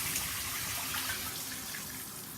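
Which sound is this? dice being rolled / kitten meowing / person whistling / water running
water running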